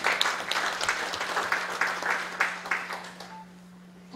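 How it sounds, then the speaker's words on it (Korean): An audience at a county governor's community gathering in Yongmun-myeon, Yangpyeong applauds in a burst of distinct, moderately loud claps that taper off into near silence over a low steady hum. "큰 박수 부탁드립니다"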